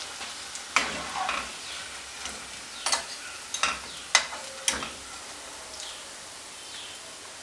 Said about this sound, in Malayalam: ഇതിൻ്റെ എല്ലാ സൈഡും നന്നായിട്ട് ഫ്രൈ ആയിട്ടുണ്ട്